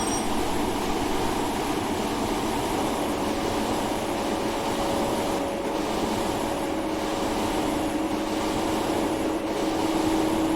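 A train rumbles along steadily in the TRS19 train simulator game, a continuous dense rolling drone with a faint tonal hum and no voices throughout.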